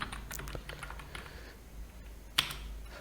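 Code typed on a computer keyboard for a Flask web forms tutorial, a quick run of light close key clicks followed by a sparser pause and one sharper isolated keystroke, with no talking.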